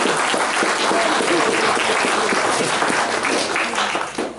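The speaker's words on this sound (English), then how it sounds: "So let's give them all a round of applause." A church audience at a Sunday homecoming service gives a sustained round of applause, thick steady clapping from many people that holds at an even level before tapering off near the end, with a voice faintly under it.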